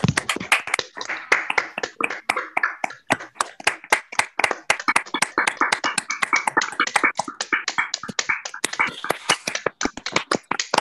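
A small group claps for a guitarist after a performance of guitar music, heard over a video call with unmuted microphones: sharp, uneven, close handclaps overlapping in a steady patter for about ten seconds.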